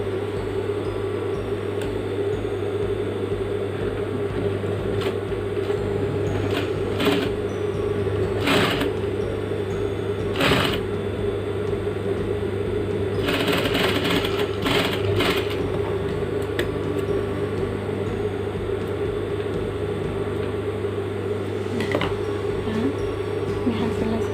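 A sewing machine runs along the folded seam of a tailored jacket's welt pocket with a continuous mechanical hum, broken by several short, sharper bursts of stitching.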